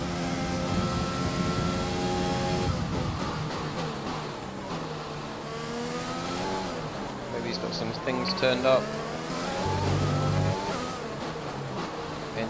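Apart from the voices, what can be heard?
Formula 1 race car engine in the video game F1 2020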